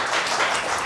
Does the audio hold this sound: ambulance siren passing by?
no